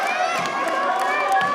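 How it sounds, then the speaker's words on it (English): A home crowd at a high school senior night basketball game in Peru cheers and shouts encouragement to a free-throw shooter after a missed first attempt. The roar is loud and steady, full of overlapping voices and yells. "Crowd giving him encouragement here."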